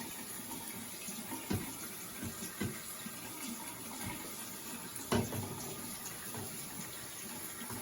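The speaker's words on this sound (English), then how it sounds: "Show us how you get your hands nice and wet." Tap water running steadily into a sink while hands are wetted for handwashing, a constant soft splashing stream with a few louder splatters, fairly close.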